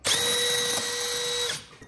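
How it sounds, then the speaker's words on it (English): A power drill bores a 2-inch hole through a wall, a loud, close, steady high whine for about a second and a half that then winds down, with no talk. "drill that hole through the wall for all the wires"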